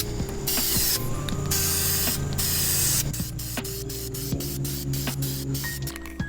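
Aerosol can spraying silver paint onto engine parts outdoors for an E30 engine swap, a loud steady hiss broken by short pauses and clicks of the nozzle, with no talking.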